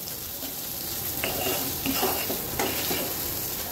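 Soybean chunks frying in a pan while being stirred, a steady close sizzle broken by scraping strokes of a spatula against the pan, with no talk.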